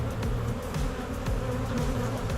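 A honey bee swarm being settled into a beehive hums with a steady, dense buzz from many bees close by, continuous and even throughout with no voices.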